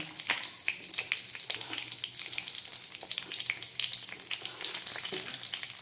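Bay leaves with dried and fresh chillies crackle and sizzle in hot oil and ghee, a dense, continuous spitting fry that stays loud and close throughout.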